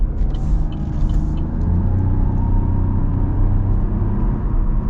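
A 2024 Chevy Trailblazer Activ with a CVT accelerating, heard from inside the cabin as a loud, steady low engine drone and road rumble that builds smoothly.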